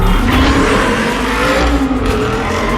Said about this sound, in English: even high-octane car chases in a roaring V8 Aston Martin